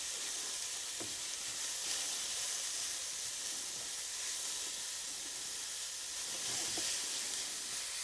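Onions fry in rendered pork belly fat over quite high heat, giving a constant close hiss and sizzle with soft stirring scrapes and a few light clicks of a utensil against the pan.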